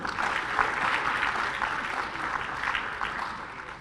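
Audience applause at a Talk Journalism political discussion event in Jaipur, a steady, dense wash of clapping from a seated crowd lasting throughout without fading, no voices rising above it.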